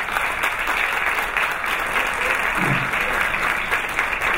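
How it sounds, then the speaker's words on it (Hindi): An audience at a staff appreciation and certificate ceremony applauds in a steady, dense wash of clapping that holds throughout. "पहले आप उनके लिए पुरजोर तालियां बजाएं।"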